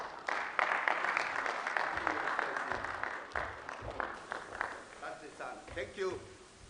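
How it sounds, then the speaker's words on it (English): Audience applause at a CPF group schemes meeting in Kenya, a steady patter of many hands that thins out toward the end, with a speaking voice carrying over it. "A round of applause again to you, Her Excellency, tumpigie makofi."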